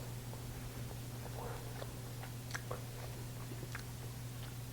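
Soft, close chewing of a bite of ham and cheese puff scramble with flaky puff pastry and Swiss Gruyere cheese, faint moist crunches and mouth clicks over a quiet hum.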